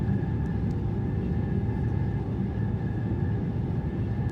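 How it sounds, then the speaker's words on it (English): Flaps extend on an Airbus A300 in a flight simulator. A steady, loud mechanical hum and whine holds over a deep airframe rumble for the whole stretch, with no talking. "The old school flap sounds are pretty sick."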